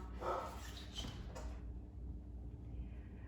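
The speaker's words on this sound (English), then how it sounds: "Your alarm clock dog is going off." A dog barks a few times in a quick burst near the start, then the sound drops to a low steady hum.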